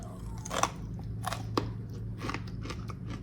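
Crisp bacon crunches in a few close, crackly bites spread over a few seconds, over a low steady background hum.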